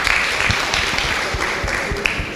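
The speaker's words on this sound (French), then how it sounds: "Des applaudissements pour elle." Applause for a young participant at a youth forum, a brief steady patter of clapping with a few distinct louder claps mixed in.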